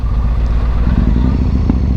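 A Yamaha MT-01 motorcycle engine while riding through traffic, a loud, steady low rumble with wind noise and faint clatter, continuous and close throughout.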